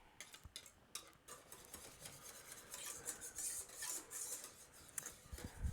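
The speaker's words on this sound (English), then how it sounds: "Every once in a while, I'll whisk the bottom because it gets the bottom." Pudding is whisked in a pot, faint scraping and ticking of a whisk against the bottom in irregular strokes, quiet and close with no talking.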